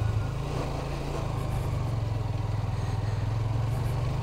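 A motorcycle riding off-road in second gear on a rough trail in Rangamati, Kaptai, its engine a steady close pulsing drone with faint clatter throughout.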